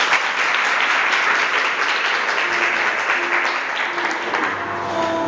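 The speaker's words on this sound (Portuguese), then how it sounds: "Vamos aplaudir a palavra do Senhor?" A church congregation applauds together after a Gospel reading, producing steady, dense clapping that fills the room at an even level throughout, with no voices standing out.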